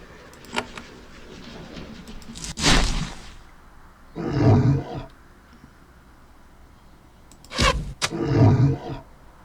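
Deep lion growls in the video game Queen's Wish 2, two separate roaring bursts a few seconds apart, each preceded by a sharp hit, loud and close with no talk.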